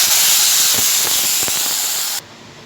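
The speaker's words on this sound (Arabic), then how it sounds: "حطيت الميه بتاع الرز زي ما انتم شايفين كده." Water pours onto hot rice in a pot on the stove, giving a loud, close, rushing sizzle with a few pops that drops off sharply near the end.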